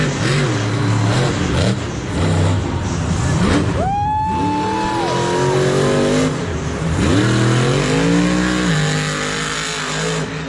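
Monster truck engine at a muddy Monster Jam stadium show, roaring and revving hard throughout with rising and falling pitch sweeps as the throttle is worked, loud and close over a constant crowd and arena wash.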